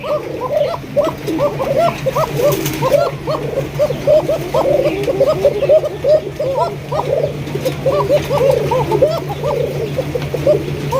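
Pigeons cooing repeatedly in a pen or market, several birds overlapping in a steady rhythm of soft throaty coos, close and continuous, with people talking faintly behind and a low steady hum.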